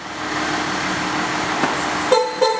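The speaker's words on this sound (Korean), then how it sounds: "빵빵 하는 건 도어가 풀렸다는 얘기고" Two short horn chirps from a Hyundai Veracruz fitted with an Athena remote-start alarm, sounding as the doors unlock; near and brief, following a steady hum of engine or background noise.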